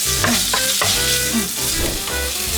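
Bacon, garlic, chili and vegetables stir-fry in a pan, a loud, close sizzle broken by repeated scraping tosses of a spatula. No voices are heard.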